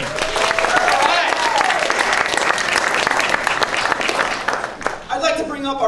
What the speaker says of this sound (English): we're going to start the debate with a round of applause for all the politicians